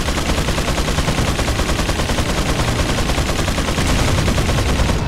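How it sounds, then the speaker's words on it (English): Sustained, dense explosive gunfire-like blasts from grenades in Resident Evil 4, loud and continuous across the whole stretch with a rapid, crackling texture and no speech over it. "Let's just finish him with the grenades."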